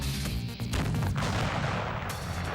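A covered blast of 5 kilos of explosive under panels, heard as a loud, muffled, sustained boom and rumble that fills the short stretch without any voices.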